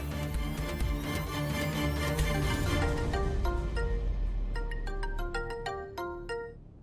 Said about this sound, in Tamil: Video call.